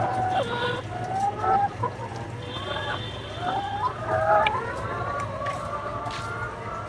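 Farm chickens, including ailing hens with weak legs from calcium deficiency, cluck and call in short overlapping bursts over a steady low hum, fairly close, with no speech.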